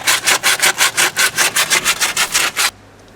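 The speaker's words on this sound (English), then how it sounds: "Just go around the inside of the knuckle, clean it up real good." Rhythmic scrubbing strokes clean the inside of a steering knuckle during a front wheel hub replacement on a 2001 Pontiac Grand Am, about a dozen quick, even, close rasps that stop abruptly near the end.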